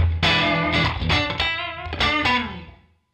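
An electric guitar played through a Tweed Deluxe amp emulation and matching 1x12 cab, with a doubler delay and studio air reverb, strikes several bright, slightly driven chords in quick succession before ringing out into a short reverb tail.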